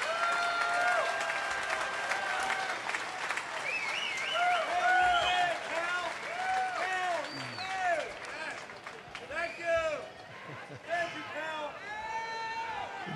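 A ballpark crowd at Camden Yards stands and applauds at the unveiling of Cal Ripken Jr.'s statue, a dense, sustained wash of clapping and cheering, with a voice speaking over it.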